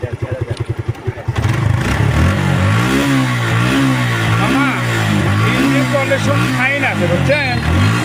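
A Suzuki Gixxer motorcycle engine putters at idle at a bike dealer, then is revved repeatedly, rising and falling in pitch, loud and close for the rest of the stretch.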